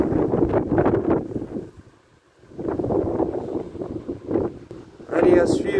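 South wind gusting during storm Barbara beside the Rhône, buffeting the microphone in heavy rumbling surges that ease briefly before a fresh blast builds again at the end.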